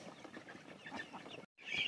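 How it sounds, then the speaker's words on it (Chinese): A hen pecks at rice mixed into corn in a rural farm setting, with soft clucks and scratchy pecking sounds close by and a brief silent gap. "这是母鸡在挑米吃"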